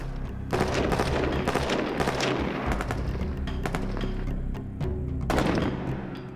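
An M16 assault rifle firing in field trials, with dense overlapping bursts of loud gunfire and booming reports rolling continuously outdoors.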